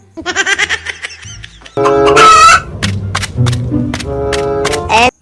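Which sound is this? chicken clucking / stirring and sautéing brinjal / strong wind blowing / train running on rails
chicken clucking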